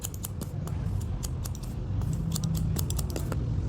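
Barber's scissors cutting hair at close range, a rapid run of crisp metallic snips and clicks in quick irregular rhythm, fairly quiet with no talking.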